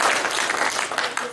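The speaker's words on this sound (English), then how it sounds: "Maybe just a little round of applause to them." Short burst of audience clapping at an astronomy club monthly meeting, a brief, fairly loud patter of many hands that fades quickly.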